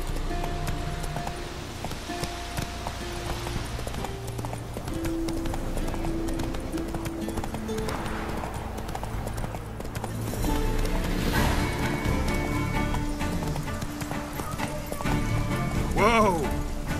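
Roach the horse galloping in The Witcher 3: Wild Hunt. Steady rhythmic hoofbeats go on throughout, mixed with game music and effects, and a whinny near the end. Voices talk over parts of it.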